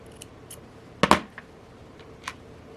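Scissors snipping the end of a nylon bracelet cord, one sharp double-click cut close by in a quiet room, with a few faint handling ticks around it.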